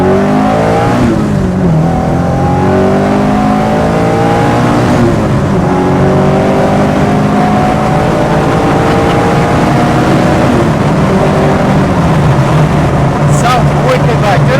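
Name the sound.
1973 BMW 2002 tii engine being driven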